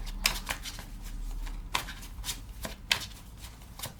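Tarot cards are shuffled by hand in a series of crisp riffling bursts, close and fairly quiet, with short pauses between passes and no talking.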